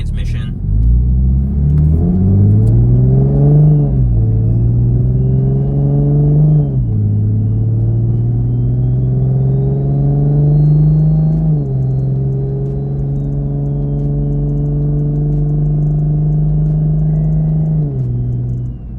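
A Toyota MKV Supra fitted with solid transmission bushings accelerates hard, its engine note rising loud and close through several gear pulls, each climb dropping briefly at the shift before rising again, then settling into a steady drone.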